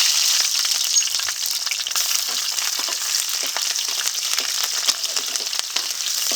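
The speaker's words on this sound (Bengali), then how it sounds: "কড়াইতে দিয়েছি সরিষার তেল ফোড়নের জন্য দিয়ে দিচ্ছি কালো জিরে দিয়ে দেবো কাঁচা লঙ্কা" Black cumin and green chilli fry in hot mustard oil in a pan, giving a steady, dense sizzle with crackling pops, close and continuous.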